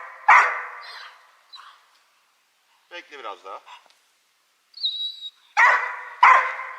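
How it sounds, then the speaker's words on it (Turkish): A search and rescue dog in training gives a few sharp barks and a whimper in short bursts, separated by pauses, with a person speaking briefly in Turkish in between. "Gitmek için çok istekli köpek."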